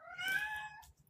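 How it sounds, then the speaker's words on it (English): A cat meows once in the background, a single drawn-out, slightly wailing call that fades at the end, faint and somewhat distant. "Excuse my cat in the background."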